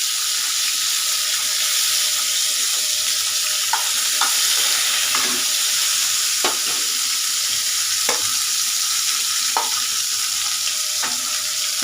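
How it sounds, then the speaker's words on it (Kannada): Tomatoes fry in about two tablespoons of oil in a pan, giving a steady, close sizzle throughout with occasional stirring scrapes and clicks and no talking. "ನಂತರ ಇದೇ ಬಾಣಲಿಗೆ ಸ್ವಲ್ಪ 2 ಟೇಬಲ್ ಸ್ಪೂನ್ ಆಗುವಷ್ಟು ಸ್ವಲ್ಪ ಎಣ್ಣೆ ಹಾಕಿ ಟೊಮೊಟೊ ಎಣ್ಣೆಯಲ್ಲಿ ಫ್ರೈ ಮಾಡ್ಕೋಬೇಕು."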